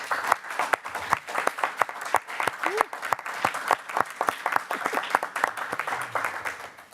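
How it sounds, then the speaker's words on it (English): Sustained applause from an audience at a school board meeting honours the district's teachers: dense, steady clapping from many hands with a few louder claps standing out, and no talking. "just a round of applause."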